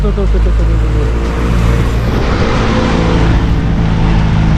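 A powerful Porsche sports car engine rumbles loudly nearby, a deep continuous roar with slight revving, while a voice talks over it.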